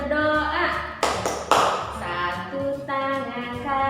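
Schoolchildren in a fourth-grade classroom do the rhythmic 'tepuk berdoa' prayer clap, a few sharp claps landing among sung, chanted voices that carry through the passage.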